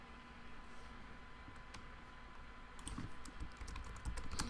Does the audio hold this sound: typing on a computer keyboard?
yes